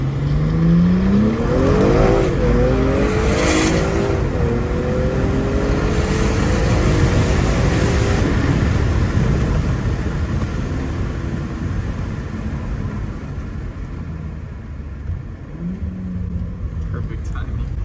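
A 2022 BMW M340i with a custom single exit exhaust accelerates in a rising pull, its engine note climbing steadily before easing off, with people talking over it inside the car.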